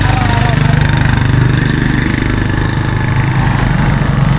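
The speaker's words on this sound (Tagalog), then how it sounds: "Ganyan ang mga tricycle dito sa" Motorized tricycle engine in Puerto Princesa City, a steady low mid-pitched drone running throughout at close range, with a continuous rumble and no clear pass-by swell.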